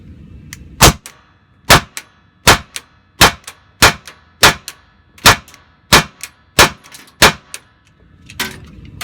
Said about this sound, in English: The first string of fire is 10 shots, slow fire.